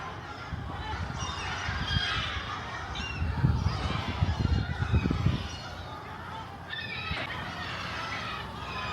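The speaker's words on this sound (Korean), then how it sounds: "왜 배가 움직이는데 이렇게 갈매기들이 따라서 움직일까요?" Seagulls crying repeatedly over a cruise ship pulling out of Naples harbour at night, with overlapping honking calls amid a steady wash of wind, engine and crowd noise.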